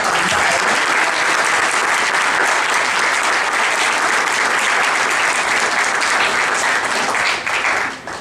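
Dense, sustained audience applause at a university lecture by a state attorney general, a loud even wash of many hands clapping that fades at the very end.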